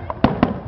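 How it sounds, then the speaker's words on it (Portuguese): Fireworks go off at the closing display of the Paléo festival in 2009: two sharp booms in quick succession, loud and fairly near, over a faint murmur of the crowd. "Estamos aqui ao vivo na queima de fogos do Paleão."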